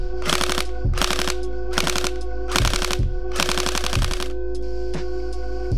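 A Tokyo Marui HK416D airsoft gun fires in several rapid bursts of close, crisp mechanical clatter, separated by short pauses, over a steady background hum.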